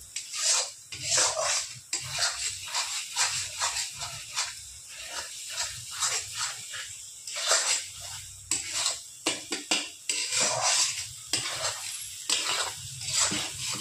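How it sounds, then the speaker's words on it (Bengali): Spice paste for mutton kosha fries in a pan, giving a rough, bursting sizzle that swells and fades as it is stirred, close and fairly loud for the whole stretch. "ভালো করে 5-10 মিনিট আমি ভালো করে মশলাগুলো কষিয়ে নেব।"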